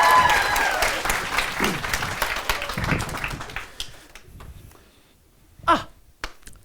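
A small audience claps for a few seconds, loud at first and then thinning out into scattered isolated claps and taps before fading to near quiet.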